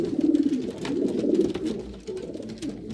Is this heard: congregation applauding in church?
no